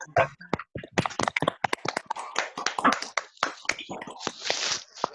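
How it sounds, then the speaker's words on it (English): A round of applause from several people clapping over a video call, with uneven, overlapping claps, brisk and fairly close, continuing throughout. "does anyone want to unmute and do a round of applause with me?"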